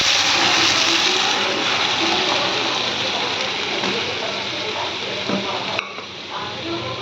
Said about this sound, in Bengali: এবার আমি দিয়ে দিচ্ছি এর মধ্যে ডাল,